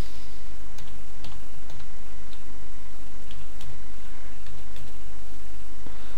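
Keys tap on a computer keyboard as a WordPress login password is entered, a sparse run of light clicks over a steady electrical hum, no talk.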